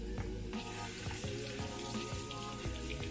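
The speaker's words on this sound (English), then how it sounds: "We're going to rinse them just like we did our lentils." Farro grains are rinsed under a running kitchen tap, a steady close stream of water spattering over them with a few clunks and shakes of the strainer.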